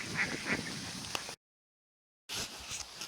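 A goose honks several times nearby, the calls clustered before a brief gap and then resuming outdoors.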